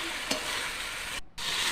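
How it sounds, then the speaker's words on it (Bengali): Ginger garlic paste frying for a fish curry, a steady loud sizzle with a brief stir clatter and a short gap near the end. "সিদ্ধ হয়ে গেলে আদা রসুন বাটা দিয়ে ভালো করে ভেজে নেব।"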